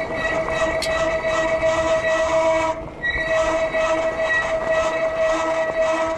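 Worn brakes on a Cyrusher Ranger fat tyre eBike squeal with a steady, loud high-pitched whine during a ride, briefly cutting out near the middle before resuming.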